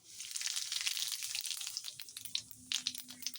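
Whole cumin seeds crackle and sizzle in hot oil in a pan, a bright, dense frying hiss with scattered pops, close and steady, no voices.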